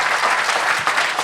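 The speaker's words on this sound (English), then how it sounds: "Can we clap it up for Talia Mayberry?" Applause from the audience at a demo day presentation event, a dense steady burst of many hands clapping with no voices over it.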